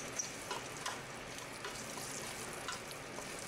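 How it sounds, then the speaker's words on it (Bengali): Spice paste with plenty of garlic cloves is stirred in a pan for cherry pickle, giving a soft continuous frying hiss with faint scraping stir sounds. "দিয়ে তারপরে একটু নেড়ে চেড়ে নিচ্ছি"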